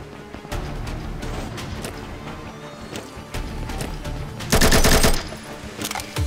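Rapid machine gun fire rattles in the first-person shooter Combat Master, sustained bursts of shots close and loud with a sharper, heavier volley near the end, no speech over it.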